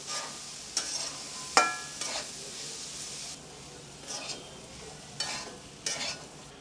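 Chana dal sizzles softly frying in a pan while a spoon stirs and scrapes at irregular intervals, producing several sharp clanks against the metal.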